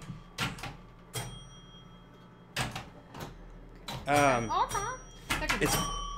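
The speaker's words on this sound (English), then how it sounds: "Solid State Hot Tip has a score reel down in the cabinet just for the sound, similar to the chimes." A Bally Four Million B.C. pinball machine gives sharp mechanical clacks from its score reel and bright chime tones in irregular bursts, with people talking in between.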